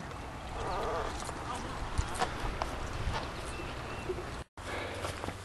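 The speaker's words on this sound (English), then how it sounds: "The horses are walking off just fine." Horses walking at a steady pace outdoors near a river crossing, hooves clip-clopping in an irregular rhythm against continuous background noise, with a brief dropout near the end.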